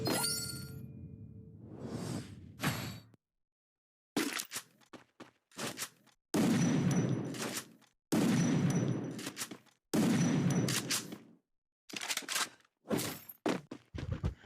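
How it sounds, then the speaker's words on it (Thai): SVD sniper rifle shots in the Free Fire video game ring out as loud, punchy blasts, several spaced bursts separated by short silent gaps, with whooshing game effects between them. "ยิง SVD โดนเจครับ"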